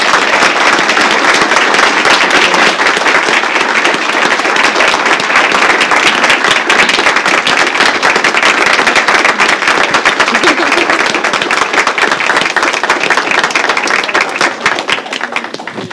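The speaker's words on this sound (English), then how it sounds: "giving our presenters one last round of applause" An audience at a live evening talk event gives its presenters a final round of applause, loud dense clapping that holds steadily for about sixteen seconds before starting to thin out at the end.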